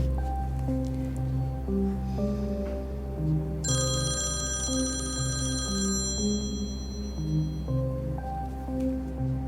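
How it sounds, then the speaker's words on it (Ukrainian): A telephone rings in a drama scene, a steady repeating electronic ringtone over a continuous musical background, moderately loud and with no one speaking. "Алло? Так, Максим, пам'ятаю"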